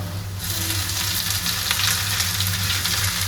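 Greens fry in a hot pan with a loud, dense, continuous sizzle, close up, with a low steady hum underneath and no voices.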